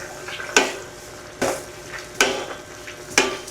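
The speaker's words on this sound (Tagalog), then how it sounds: "Haluin muna." Igado, a Filipino pork and liver stew with oyster sauce and sugar, stirred in a pan: four distinct scraping clacks of a utensil against the pan at roughly even intervals over a faint background sizzle, close and alone.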